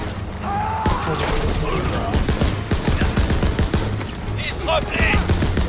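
Call of Duty WWII gameplay brings dense bursts of gunfire and rapid machine-gun fusillades, with impacts and crashes over battlefield noise, while shouted voices are heard throughout the firefight.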